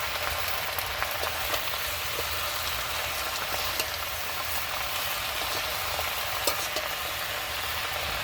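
Malabar spinach leaves frying with hilsa in a pan give a steady, dense sizzle with faint clicks of stirring, continuous and close throughout, with no voices.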